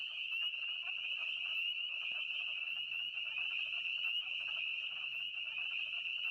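A dense chorus of high, shrill calls from frogs such as spring peepers and wood frogs on a rainy late-winter or early-spring night in Indiana rings out steadily and continuously, many voices overlapping at a constant loud level with no pauses.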